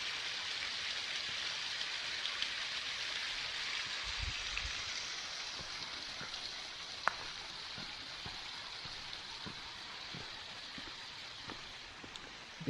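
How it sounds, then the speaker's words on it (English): Waterfalls at Carter Caves State Park in Kentucky give off a steady broadband rush of falling water, heard from along a nearby trail, with occasional faint footsteps. "Closer again to the waterfalls down there."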